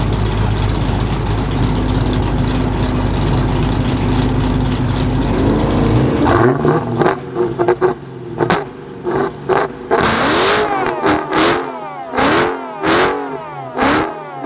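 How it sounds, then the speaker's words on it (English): Mopar muscle car doing a line-lock burnout: steady loud engine roar builds, then sharp repeated revving bursts with gaps between them, close and loud, no talking. "Press the gas pedal, the rear wheels will break traction unless you're a stick."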